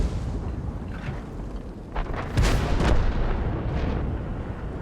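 The main gun of the Bisonte C45 tank destroyer fires in a tank battle game, a heavy boom partway through over a constant rumbling engine and battlefield background.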